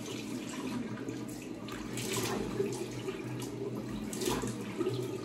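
Cold mountain water runs over a T-shirt being rinsed, a steady close splashing and gurgling flow with no voices.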